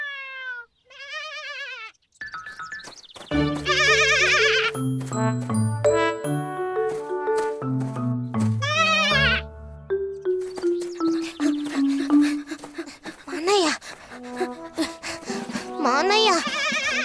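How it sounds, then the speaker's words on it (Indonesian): Cartoon goat bleats in an Indonesian animated children's series, a wavering bleat near the start amid music and voiced dialogue, with more bleat-like cries later; people talk throughout. "Kok ada suara kambing, Dit?"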